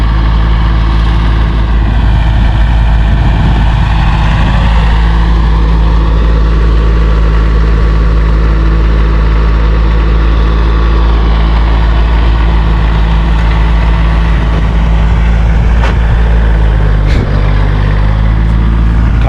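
Farm tractor engine running steadily and loud close by while moving bales, a constant droning hum with slight variations in load, with no speech.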